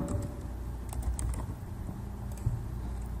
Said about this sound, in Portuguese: E vou digitar aqui janela.